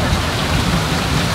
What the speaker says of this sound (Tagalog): Ayan na yung ulan, tara.